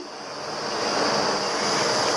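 A steady, rolling bubbling hiss of milk and water boiling hard in a pot, swelling slightly at the start and then holding constant, with no talking.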